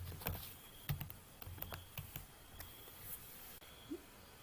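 Keys tapped on a computer keyboard while entering a web address, a sparse, irregular run of soft clicks at close range with quiet pauses between strokes and no voices.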